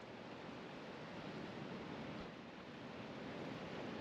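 Ocean waves break on a reef off a Kauai beach, making a steady, faint, broadband surf roar that stays unbroken and even throughout, with no voices.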